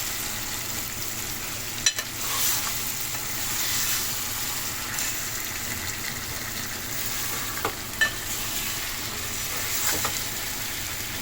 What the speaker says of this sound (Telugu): స్టార్టింగ్లో ఇలా స్పూన్తో కలుపుకోవచ్చు ముక్కలు